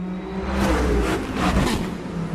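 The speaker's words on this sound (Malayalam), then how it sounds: "ഈ വണ്ടിയുടെ സൗണ്ട് ഒന്ന് പോട്ടെ, നല്ല കേക്കോളൂ." A vehicle engine revs up loudly nearby, a rising and falling mechanical roar with a steady low hum underneath and no voices over it.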